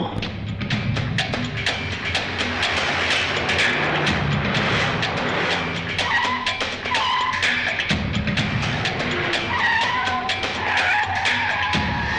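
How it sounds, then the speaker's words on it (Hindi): A car speeds away with tyres skidding loudly on the road, a sustained screeching roar with engine noise filling the whole scene in a dramatic film chase. "बल्लू, गाड़ी निकालो।"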